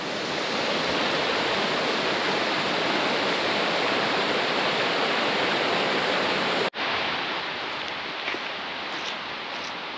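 Ice cold, crystal clear mountain stream on an alpine hiking route in Switzerland, a loud, dense, steady rush of flowing water heard up close, briefly cut off partway through.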